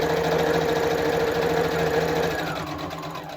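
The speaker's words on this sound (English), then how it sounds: "I can't believe how fast this sewing machine will go." A sewing machine used for quilting runs fast and loud close by, a rapid continuous mechanical whir and clatter that slows slightly near the end, with no talking.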